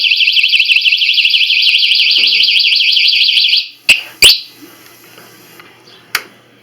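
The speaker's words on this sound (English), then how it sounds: "the alarm's going to go off" A loud, rapidly warbling electronic alarm siren on a Harley bagger motorcycle wails close by for several seconds, then stops, leaving a few sharp clicks and quiet background.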